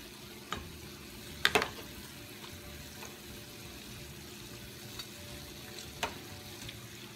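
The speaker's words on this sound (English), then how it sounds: "you see how they're getting nice and golden brown? And they frying slow." Cornbread frying slowly in a pan of oil, a soft steady sizzle with faint crackles and a few small pops, quiet and close.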